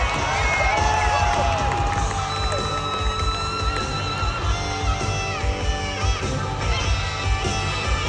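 A rodeo crowd cheering for a rider, with a continuous roar of whoops and shouts spread wide across the arena, loud and sustained, with voices mixed into the din.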